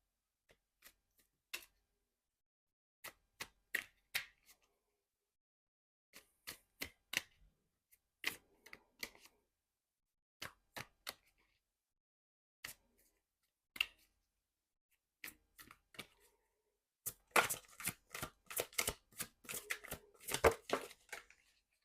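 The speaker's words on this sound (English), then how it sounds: "I'm going to get you guys an oracle card" Oracle cards shuffled by hand in a quiet room, a series of crisp riffling bursts and flicks, sparse at first and then a dense rapid flurry toward the end.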